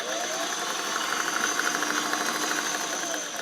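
A restored all-metal Singer 404 slant-shank sewing machine with a rotary hook runs fast, giving an even, high-speed mechanical hum that holds steady throughout the short stretch.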